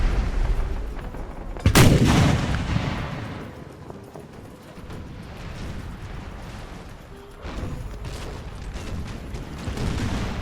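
Cannon and musket fire from a Napoleonic naval battle in a strategy game, a loud booming blast early on followed by rumbling volleys and scattered shots continuing in the background.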